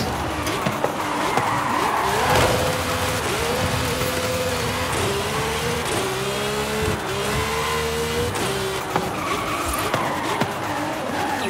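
A Lotus car in the racing game Forza Horizon 5 drives continuously with a droning engine, tires squealing and skidding throughout, with engine pitch rising and falling through shifts.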